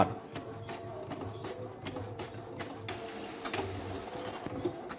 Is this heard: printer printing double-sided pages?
yes